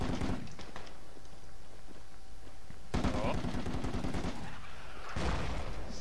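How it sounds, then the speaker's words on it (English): Mortar and small-arms fire in the military video game Project Reality: bursts of rapid shots come in three loud clusters separated by a quieter stretch. "Mortars begin to fire."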